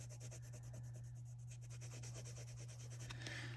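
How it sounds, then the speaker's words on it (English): Colored pencil burnishing colors on paper with white, a quiet, steady rhythmic rubbing of strokes close up over a constant low electrical hum. "I'm just kind of pushing in and burnishing the colors all in"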